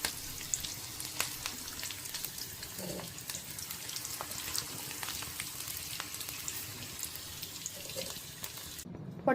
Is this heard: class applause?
no